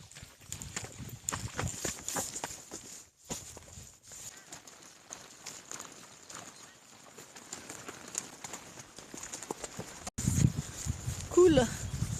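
Horses and a pack mule walking on a trail ride, five riders with six animals, their hooves clopping in a loose, continuous rhythm close by, with people talking over them and a louder shuffle near the end.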